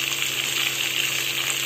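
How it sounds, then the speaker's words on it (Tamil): Onions fry in a pan for semiya upma, giving a steady, close, hissing sizzle that holds at an even level throughout. "வெங்காயம் போட்டு கொஞ்சம் நல்லா வறுத்துக்கணும்."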